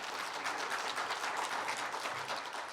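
Audience applause following a speech at an academic conference, a continuous, even wash of many hands clapping at a moderate level, heard alone without talk.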